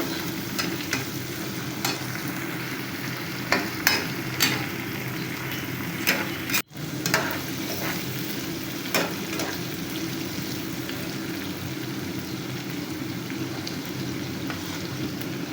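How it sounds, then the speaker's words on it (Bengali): Shrimp and onions frying together in a pan for a bitter gourd curry, a steady loud sizzle with periodic scraping stirs and small clicks of the spatula against the pan. "একসাথে চিংড়ি মাছ আর পেঁয়াজগুলো একটু ভেজে নেবো"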